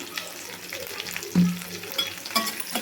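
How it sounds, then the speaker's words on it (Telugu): An onion and curry leaf tempering with a pinch of asafoetida sizzles in hot oil for Andhra tomato dal, a continuous close crackle broken by stirring scrapes and one louder burst partway through. "ఈ తాలింపు మొత్తం మంచిగా వేగాలంటే అన్నీ వేసేసాము"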